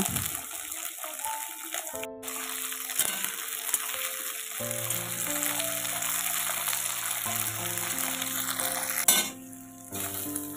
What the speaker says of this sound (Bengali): আগে বিনস কড়াইগুলো দিয়ে হালকা আঁচে একটু ভেজে নেব।